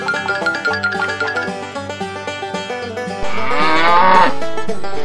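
A toy cow moos on a toy farm set beside a red toy tractor and animal trailer, its electronic lowing rising loudly over a bright, bouncy music track near the end.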